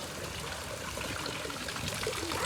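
Rainwater trickling and flowing into a pipe in a village during a heavy rain shower, a steady soft gurgling stream with no pauses, moderately close and alone.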